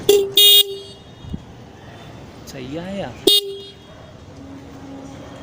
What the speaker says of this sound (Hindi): यहाँ पर हॉर्न वगैरह भी बज रहा है।